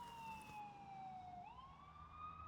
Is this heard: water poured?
no